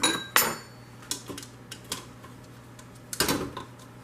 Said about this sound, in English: I'm just going to flip them over.